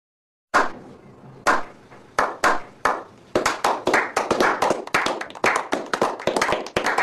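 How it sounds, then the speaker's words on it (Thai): One person claps hands close by, starting with a few slow, separate claps and then speeding into a steady, quicker run of sharp claps. "ปรบมือปรบมือเลยนะครับทุกคน"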